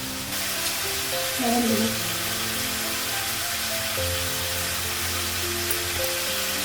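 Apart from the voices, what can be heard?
spices frying in a pan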